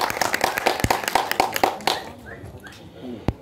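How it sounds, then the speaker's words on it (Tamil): Audience applause at a Tamil film-industry felicitation honouring PT Selvakumar on his doctorate: a burst of dense clapping with sharp individual claps, fading out after about two seconds into a quieter room with a final lone clap. "அதற்கு நாம் அனைவரும் ஒரு மிகப்பெரிய ஒரு கைத்தட்டல் முதல்ல கொடுத்துருவோம்."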